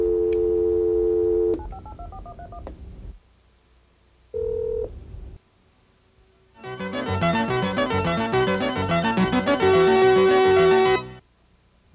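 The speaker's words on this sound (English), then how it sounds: "the popular touch-o-matic telephone, which can dial stored numbers at the touch of one button." Touch-o-matic telephone dialing a stored number at one button press: a sustained tone, then a short tone burst after a pause, followed by a rapid run of DTMF tones lasting about four seconds.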